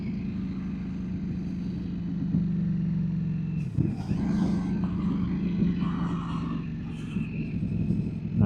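Ducati Streetfighter V4S motorcycle engine cruising in second gear, then a shift up to third, a steady low droning hum with a brief break at the gearchange before the engine note resumes, heard from the rider's position.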